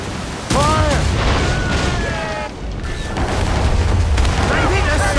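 Ship cannons boom in a naval battle in Assassin's Creed Rogue, loud and heavy, with a low rumble under shouted commands and game music, and one big blast near the start.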